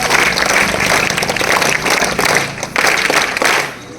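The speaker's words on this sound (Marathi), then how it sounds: "तीन टाळ्या वाजवून आपण तिचं अभिनंदन करूया" A crowd at a village school prize ceremony in a gram panchayat courtyard claps together to congratulate a top student, producing loud, dense applause with rhythmic surges that fades slightly at the end.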